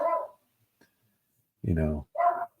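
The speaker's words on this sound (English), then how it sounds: "Excuse my dog there." A dog gives three short barks close by, with a sharp yelp first and two fuller barks after a pause, in an otherwise quiet room.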